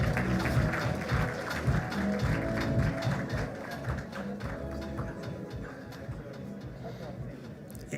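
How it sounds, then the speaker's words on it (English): Applause for the winners at a national skills competition in Kenya, scattered clapping heard over a busy hall with talk and other background activity, loudest at the start and gradually thinning. "Let's clap for them."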